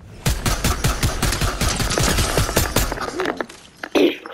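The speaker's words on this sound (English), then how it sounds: "I'm using makeshift shotgun. It only gives you 3 shots." A makeshift shotgun fires in a video game, producing a rapid string of sharp, close bangs that run together for about three seconds before a final isolated shot.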